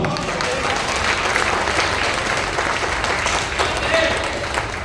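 Audience applause at a comedy show, a dense sustained wash of clapping that carries on evenly throughout, with some voices mixed in underneath.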